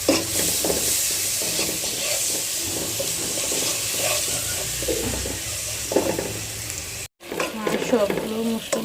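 Garlic paste, ginger paste and spices frying loudly in a pan for vegetable khichuri, a steady sizzle with repeated stirring scrapes, a brief dropout near the end, then the sizzle resumes.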